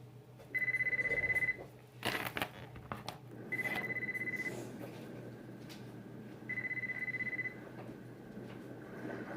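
An old-style telephone bell rings in three separate bursts, each about a second long, with pauses between them, loud and close over a steady low hum and faint room noise.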